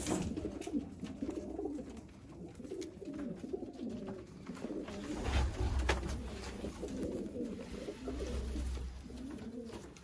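A pair of Sialkoti green-eyed breeder pigeons coo repeatedly up close, soft throaty rolling calls overlapping in uneven rhythm over faint background noise.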